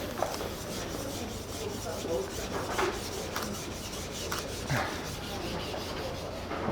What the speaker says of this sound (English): taking a photo of somebody sharpening a knife